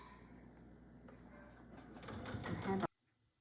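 A sewing machine runs a zigzag stitch along a quilt binding, a steady mechanical whir that grows louder and busier before stopping abruptly, close by.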